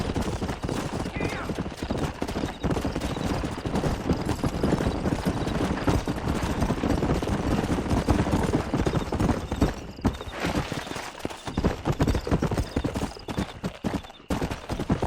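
Horse hooves clatter in rapid, continuous clip-clop rhythm throughout a Red Dead Redemption gallop, loud and dense, with occasional gunshot-like bursts and brief voices in the mix.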